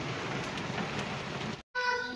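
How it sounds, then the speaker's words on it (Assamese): Rain falls outside in a steady, fairly close hiss, briefly cut off by a short gap before resuming. "এতিয়া বৰষুণ পৰি আছে"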